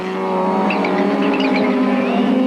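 In-car engine of Chris Aberdeen's race car during round 7 of the 1993 Wesbank Modifieds at Goldfields, a loud, steady, high-revving drone filling the whole stretch without a break, with a faint squeal of tyres over it.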